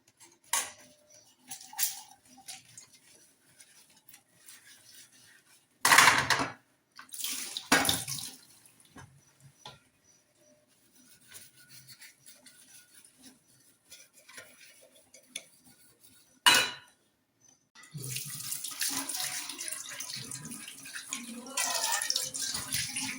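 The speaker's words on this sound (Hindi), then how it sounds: "सबसे पहले बर्तन धोते हैं" Dishes are washed under a running tap in a home kitchen, with intermittent bursts of flowing water and soft clinks of utensils. Quiet stretches fall between the bursts, and a longer run of water comes near the end.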